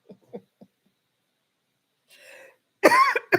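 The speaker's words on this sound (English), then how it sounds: "I'm coughing now" A person coughs and clears their throat in a few short bursts, with a louder, harsher cough near the end, close and otherwise quiet.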